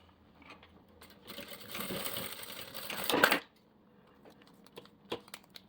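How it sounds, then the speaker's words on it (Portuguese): A sewing machine runs for about two seconds as it stitches a zipper onto a half-moon pouch, with a steady mechanical whir that builds briefly before stopping. Quiet handling clicks follow. "E vamos passar uma costura."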